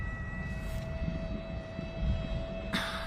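Large gas-powered model airplane in flight overhead, a steady droning engine tone with a sustained whine, loud and continuous throughout with a brief louder surge of wind or engine noise near the end.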